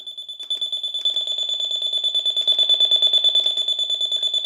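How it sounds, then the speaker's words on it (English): Wooden digital alarm clock sounding its alarm: a steady high-pitched electronic beeping in rapid pulses, close and clear, continuing throughout with no voices. "This is where the sound of the alarm comes out."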